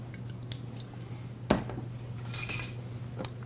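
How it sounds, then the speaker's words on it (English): A spoon clinks and scrapes against a glass while stirring egg yolk and about two ounces of sherry for a rum fustian, with a couple of sharp taps and a brief bright scraping rattle over a low steady hum. "Just going to stir that in."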